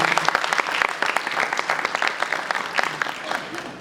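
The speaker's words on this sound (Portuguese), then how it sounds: "Seja muito bem-vindo a Cris, nossos aplausos." A literary festival audience applauds a guest at a panel discussion, steady, close clapping that fades slightly toward the end.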